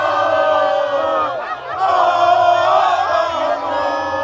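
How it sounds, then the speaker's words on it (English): Spectators at a holey board tournament final roar with sustained cheering and whooping that swells, dips briefly, then rises again, loud and close. "Crowd's feeling it."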